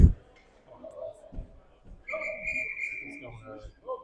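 A referee's whistle sounds in an 18U ice hockey game before a face-off: one sustained, fairly loud shrill tone lasting over a second, heard over arena noise with a commentator talking.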